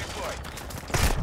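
A short burst of rapid gunfire from the player's gun in Call of Duty Modern Warfare II, close and punchy, with a loud final shot.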